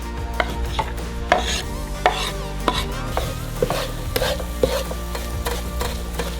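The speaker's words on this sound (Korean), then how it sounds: "가스레인지에 프라이팬을 넣고 기름을 두르고 양파를 볶아줘요" Onions stir-fry in oil in a frying pan on a gas stove, a steady sizzle with repeated scraping and clicking of a utensil against the pan throughout.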